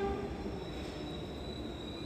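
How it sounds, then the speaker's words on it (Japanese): A Paris metro train at Palais Royal–Musée du Louvre station rumbles steadily in an underground setting, a continuous low roar with faint high metallic whine, heard alone without voices. "電車も来たところだし"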